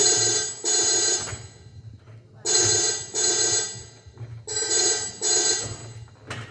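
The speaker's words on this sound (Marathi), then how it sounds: "बघ जरा फोन कुणाचा आहे." A telephone bell rings in repeated double bursts with short silent gaps between them, loud and close, with no voices.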